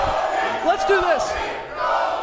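Crowd noise at an NBA Summer League game, a steady mass of voices with a few shouts rising out of it, continuous and fairly loud for a couple of seconds.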